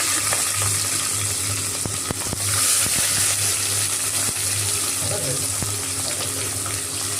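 Onions frying in a pan with green chillies for chicken biryani, a steady close sizzle with occasional stirring knocks and scrapes, a low hum running underneath.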